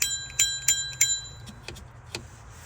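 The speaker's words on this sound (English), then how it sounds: "They also provide you with a bell." The bell on a mini folding electric bike rings several times in quick dings, the first ones bright and ringing, later strikes softer and more muffled.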